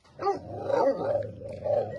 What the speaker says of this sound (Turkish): burada bir tane de köpeğimiz var işte bunların bekçiliğini yapan